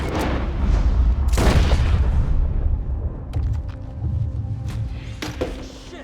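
A single heavy gunshot booms in Red Dead Redemption 2, a loud broadband blast near the start, followed by a long rumbling decay and a few fainter clicks and rattles afterward, with no talk.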